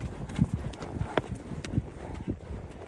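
Horses' hooves clip-clop over a steep, very hard mountain pass at high altitude, a steady uneven clatter of close strikes with brief snorting bursts over faint wind.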